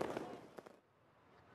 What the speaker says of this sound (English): just a tiny part of the billion people letting off fireworks all over China